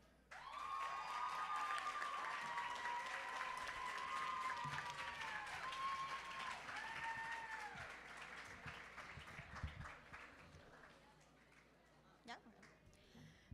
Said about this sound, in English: Would the delegate from Thailand please stand to receive the well-deserved round of applause